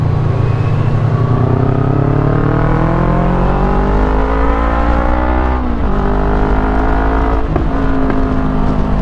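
Steady roar of a motorcycle engine while riding in the mountains, pitch slowly climbing and dipping with gear changes, loud and continuous with wind noise.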